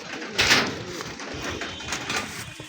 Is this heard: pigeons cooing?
yes